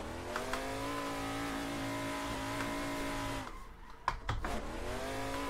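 A drift car in Assetto Corsa, kicked out with the clutch in third gear, holds a steady, loud high-revving engine drone, then the revs drop sharply as it nearly stalls, followed by brief abrupt bursts and rev blips.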